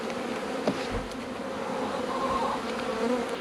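Dense, continuous buzzing of many honeybees close by at an open hive in early spring, a steady droning hum without speech.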